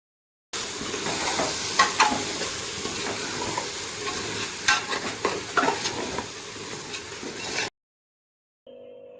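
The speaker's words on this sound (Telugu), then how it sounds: "ఒకసారి చక్కగా ముక్కలు కనిపేటట్టు కలుపుకోవాలి." Chicken pieces with cumin powder, chicken masala and a little yogurt are stirred in a hot frying pan, sizzling steadily with clattering spoon scrapes for about seven seconds before stopping, and a brief faint sound follows.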